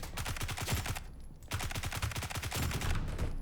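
Rapid bursts of UMP submachine gun fire in the video game BRM5, close and loud, two quick automatic strings split by a brief pause, no talking.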